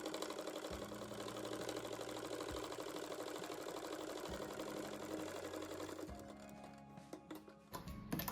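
Sewing machine stitching a patchwork flower for a rug, a steady fast mechanical whirr running in repeated long passes with brief pauses, close and continuous, ending in a few lighter clicks.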